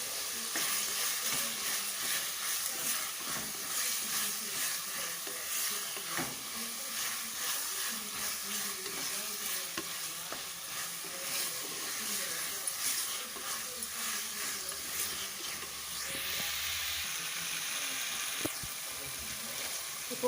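Chicken sizzles steadily in hot oil while being dry-roasted with masala, a dense continuous frying hiss with occasional stirring scrapes, close and unbroken.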